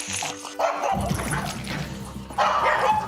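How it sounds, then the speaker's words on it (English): Two dogs, one a rescue pug, fight with sharp barks, yips and snarling growls, loud and close, in quick agitated bursts. "Dina's dog Huggy and Scott's dog Milog don't get along"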